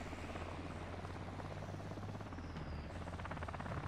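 Helicopter rotor thumping steadily with a constant engine whine in the Call of Duty Modern Warfare 2 game campaign, loud and close throughout with no one speaking.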